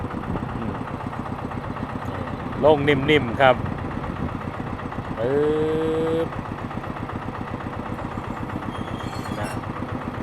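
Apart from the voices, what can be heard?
engine of a black E-taen farm utility vehicle running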